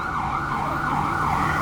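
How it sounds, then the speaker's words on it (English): An ambulance siren wails loud and steady, its rising and falling tone sweeping past on a city street in Brooklyn, close by and alone without talk. "I want to let this ambulance go by."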